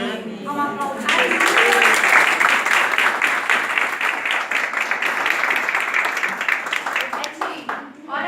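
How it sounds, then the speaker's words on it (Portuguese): A church congregation breaks into sustained applause after a prayer, a dense wash of clapping that starts abruptly and holds steady, with a voice speaking briefly before it begins and murmurs through it. "Vamos aplaudir."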